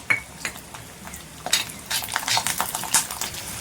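Garlic is stirred and sautéed in hot oil in a pan, with scraping spoon strokes and light clinks of utensil against metal over a soft sizzle, with no speech.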